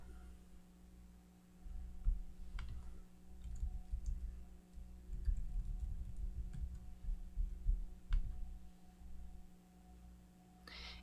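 Computer mouse clicking during a Chrome browser sign-in: faint, scattered single clicks over a steady low electrical hum, with no talking.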